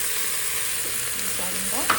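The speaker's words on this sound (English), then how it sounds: "Now I'm going to add the sambar podi." Store-bought sambar podi stirred into vegetables frying in a pan, a soft continuous sizzle with light scraping from stirring near the end, close and steady, with no talk.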